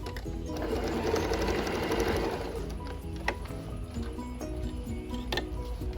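A sewing machine runs steadily while stitching a maxi skirt seam with a back stitch, giving a close mechanical whir with faint clicks and taps.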